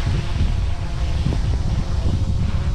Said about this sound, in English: snow blowing, so it's blowing pretty good.